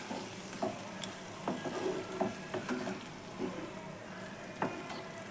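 A spatula stirs masala with raw tomatoes and roasted peanuts in a pan, soft scrapes and taps over a low, steady sizzle, fairly quiet and close.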